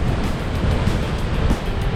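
Strong wind and surf roll in on a rocky stretch of the east coast, a close, rumbling wash of waves with gusty buffeting against the microphone throughout, no voices present.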